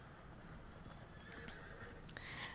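A horse in Red Dead Redemption 2 gives a loud, close whinny, with hoof clops and game ambience underneath.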